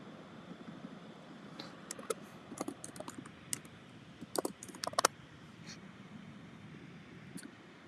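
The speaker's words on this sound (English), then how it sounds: "I'm gonna type in, what are we typing? Girl boss." Someone types on a computer keyboard, with quiet, irregular key clicks in short bursts over a soft steady background hiss and no talk.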